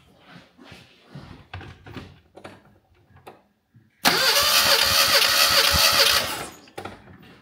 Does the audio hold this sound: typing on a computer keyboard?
no